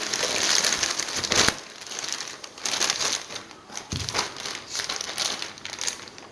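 Loud, continuous crinkling of a plastic bag, rustling and crackling close by with brief sharper crunches, no voices.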